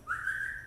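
A single sustained whistle, clear and steady, is blown as a feeding cue for a crocodile; it carries on alone, with no voices over it.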